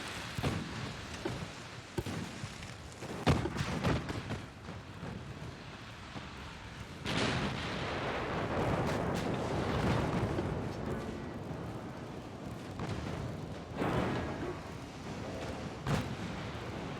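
Naval guns boom in the warship battle game Ultimate Admiral: Dreadnoughts, a series of heavy, distant-sounding blasts with long rumbling tails, some overlapping into a sustained roar, moderately quiet overall.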